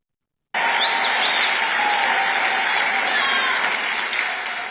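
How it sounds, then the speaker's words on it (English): A rally crowd bursts into loud, sustained cheering and applause that starts abruptly and holds steady, dense and close, with shouting voices mixed in. "they're cheering for the new Doge department"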